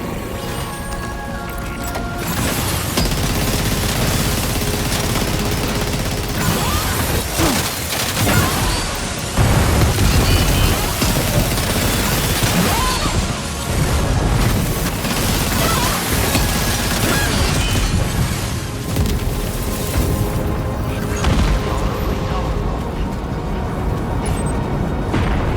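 Heavy cannon fire and explosions from the main gun of Magellan in Death Stranding 2, a dense, continuous barrage of booms, crashes and debris lasting throughout at high volume.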